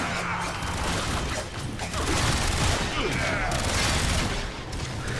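Warframe guns fire in a loud, continuous volley of rapid shots with heavy booms and crashing impacts, close and unbroken across the whole stretch.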